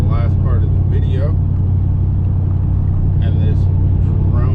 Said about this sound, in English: And this droney truck.